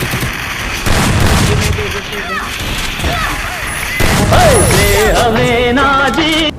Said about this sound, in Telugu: వీడైతే బాంబులు వేస్తుంది.